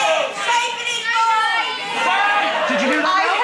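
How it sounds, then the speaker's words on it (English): A live studio audience shouts overlapping answers at a comedy show, a loud jumble of many voices calling out at once. "Listen to the crowd, Mel."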